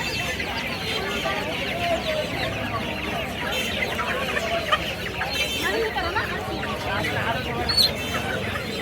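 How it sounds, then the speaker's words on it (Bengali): Large Fayoumi hens and roosters at a Dhaka poultry market cluck and squawk continuously in a busy, crowded din, with a few sharper calls standing out and people chattering in the background. "এত বড় সাইজের ফাউমি মুরগির মোরগ"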